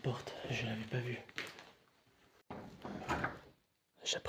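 A door inside an abandoned house creaks and scrapes as it is pushed open, close and fairly faint, with a person talking over and around the sound.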